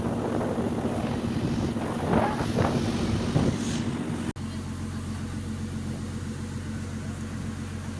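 A boat rides across open water while wind buffets the microphone in gusty low rushes and a steady motor drone hums underneath; the sound cuts abruptly midway to a quieter, steadier hum.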